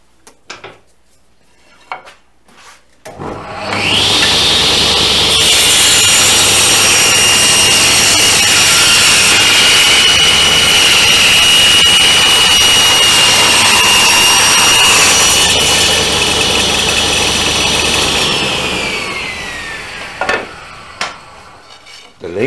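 Table saw blade cutting through wood during a box build, a loud sustained whine running about fifteen seconds after spin-up, then winding down, with no talk.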